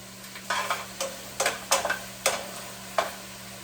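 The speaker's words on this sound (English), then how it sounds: "it seems like our vegetables are sizzling up pretty good" Beef and vegetables sizzling in a soup pot, a faint steady fry under a series of loud, close stirring scrapes that come in quick bursts about every half second, with a low hum behind.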